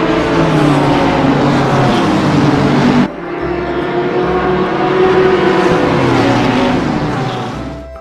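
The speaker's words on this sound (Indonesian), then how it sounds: "Mobil balap." Sound of a toy race car, a loud, continuous buzzing engine whine with a sharp cut partway through, then a shifting pitch that rises and finally fades at the end.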